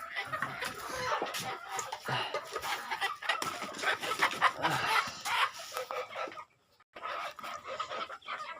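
Hens clucking and squawking close by on a poultry farm, a busy flock with scattered calls and rustling, briefly dropping to quiet near the end before resuming.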